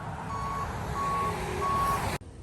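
Three evenly spaced electronic reversing beeps from a tow truck arriving at a crash scene, loud and steady over a low diesel engine rumble, cut off abruptly near the end.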